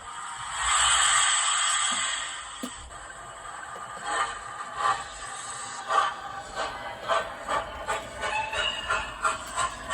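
A small model train, a 4F locomotive, hums and hisses along, with a rhythmic clicking of wheels growing steadier after a few seconds; no talk.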